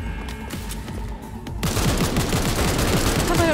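Rapid automatic gunfire from Cyberpunk 2077 combat, a dense loud fusillade of close shots erupting after a quieter stretch and continuing steadily to the end.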